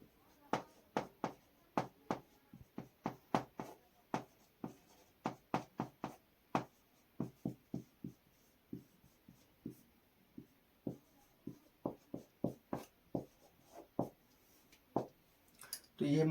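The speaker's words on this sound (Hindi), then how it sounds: "लिख देते हैं" A pen scratches out short strokes on paper during a class 9 polynomials math lesson, quick irregular taps and scrapes in bursts, close and fairly quiet with no talk over them.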